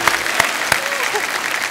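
A studio audience at a television comedy show breaks into loud, dense applause, with a few sharper claps punctuating the roar; voices come through briefly.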